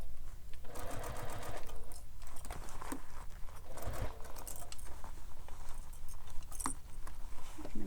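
Sewing machine stitching fabric around the curves of a bag: a close, steady mechanical chatter in short runs with brief pauses, plus light fabric rustling and a faint metallic jingle.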